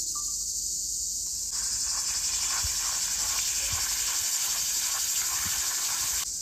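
Garlic frying briefly in hot oil in a clay pan, a steady bright sizzle and hiss that holds near and fairly loud throughout, with a few soft pops and no talking.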